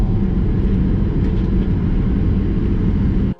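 A Virgin Australia airliner takes off from runway 01 right at Brisbane, heard from inside the cabin as a loud, steady low engine roar that cuts off abruptly at the end.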